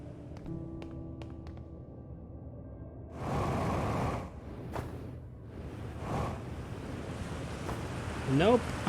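Ocean waves surge and wash in the Outer Wilds video game, steady surf with a couple of louder swells and wind rushing over the top, and no voices.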